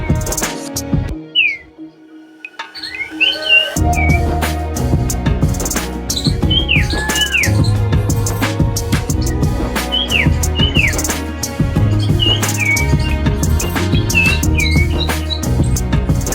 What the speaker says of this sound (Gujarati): શાંત વાતાવરણને લીધે પક્ષીઓના અવાજ કેવા મસ્ત આવે છે ખાગડાનો અવાજ આવે છે